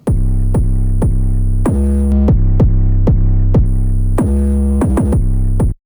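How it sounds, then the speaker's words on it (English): Distorted phonk beat being produced: heavy saturated bass hits in a repeating rhythm with gritty, buzzing overtones and a high sustained tone coming and going, loud and upfront. "I'm just using a little bit of distortion, which is this."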